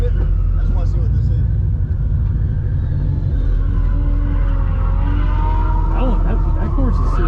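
LS V8 engine in a drift car at a drift club, a loud, constant low rumble with rising revs near the end and people talking over it.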